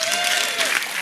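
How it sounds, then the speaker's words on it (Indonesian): Brief burst of crowd applause for Banser members at a night-time sinau bareng gathering with Cak Nun, dense clapping that fills the full second. "Tepuk tangan."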